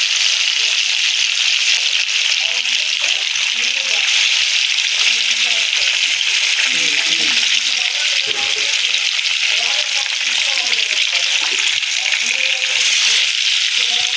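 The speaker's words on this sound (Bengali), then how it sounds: "মাছগুলোকে আমরা বেশ গোল্ডেন কালার আসা পর্যন্ত ভেজে নেব।" Rohu fish pieces frying in hot mustard oil in a wok, a loud, steady sizzle and crackle throughout with faint stirring.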